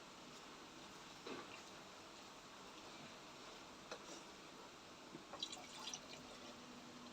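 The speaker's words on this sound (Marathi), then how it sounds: "तर लागत लागतच पाणी घाला थोडं थोडं." Hot water is added little by little to a potato gravy for dum aloo, thickened with cashews and melon seeds. Faint, scattered drips and soft splashes come through a quiet background, with no talking.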